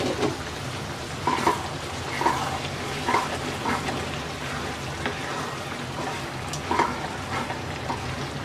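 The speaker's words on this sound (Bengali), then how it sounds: "ঢাকনা খুলে নেড়ে দিচ্ছি।" Chickpeas for chola bhuna frying in a pan with the lid off, a soft continuous sizzle broken by several clacking stirs of a spoon against the pan.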